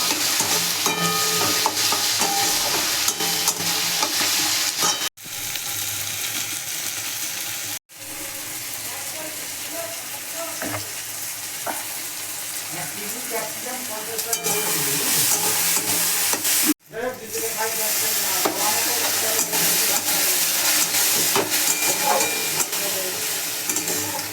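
Spice paste with ginger, raw green tomatoes and salt frying in a pan for a fish curry; a loud, continuous sizzle with stirring scrapes, broken by a few sudden brief cuts.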